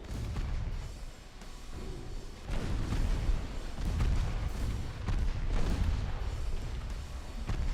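Naval artillery fire in the warship game Ultimate Admirals: Dreadnoughts: heavy booming salvos roll almost continuously over a dense low rumble, swelling in waves of deep, overlapping blasts.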